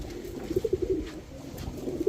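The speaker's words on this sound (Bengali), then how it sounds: "এখন দেখাবো এক জোড়া ইন্ডিয়ান হাই ফ্লেয়ার নাপ্তা কবুতর" Soft, repeated coos from a pair of Indian High Flyer pigeons in a low burbling rhythm, close by, with a faint hiss of background noise.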